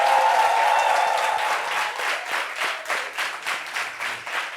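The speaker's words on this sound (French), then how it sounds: "ovation, applaudissements" A crowd applauds steadily, dense clapping that starts loud and full, then thins slightly into scattered claps toward the end.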